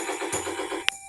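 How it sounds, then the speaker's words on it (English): Electronic machine-gun effect from a 1980s G.I. Joe toy tank, a buzzy pulsing rattle with a bright click near the end, close and moderately loud with no talking. "Sounds like the machine gun."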